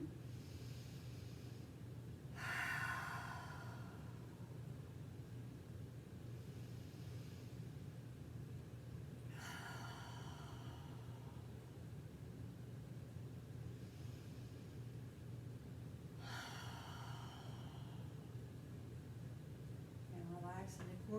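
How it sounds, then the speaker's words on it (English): Three slow, deep breaths during a yoga session, each drawn in through the nose and pushed out through the mouth, spaced several seconds apart over a steady low background hum. "We're going to breathe in through the nose and out through the mouth."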